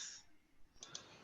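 Keys are tapped to enter numbers, a few light, quick clicks close by and faint, with a brief bright tone at the start.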